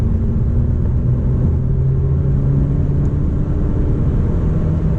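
A 2014 Honda Civic 1.8L engine held high in sport mode at about 4,000 rpm, producing a steady, loud droning rumble from inside the cabin while driving, with no talking.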